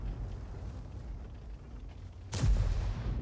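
A tank's main gun fires once partway through a video game match, a loud near boom over a steady low engine rumble.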